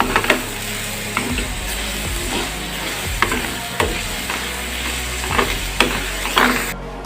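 A spoon stirs ghee and powdered sugar in a hot pan, with a soft sizzle under repeated scraping strokes and a few sharper clinks of the spoon against the pan.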